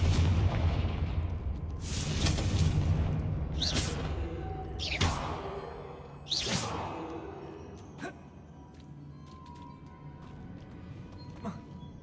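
Spells burst in Hogwarts Legacy in a string of several booming blasts and whooshing impacts spaced a second or two apart, heard under a man casting aloud in an excited voice.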